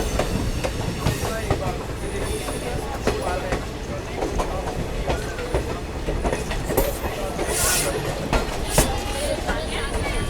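An Indian Railways DMU runs on the Katra to Jammu line, giving a steady loud rumble with rhythmic wheel clatter on the rails. People talk faintly under the noise.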